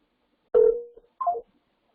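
A telephone sounds two short, distinct dialing tones while a call goes out to a flatbed trucking carrier, with no voices and silence around the tones.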